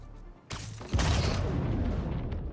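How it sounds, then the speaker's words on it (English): Fireworks in the Spider-Man 2 video game burst with a sharp boom followed by a dense, rumbling crackle that lingers and fades slowly, heard alone without talk. "I hear fireworks."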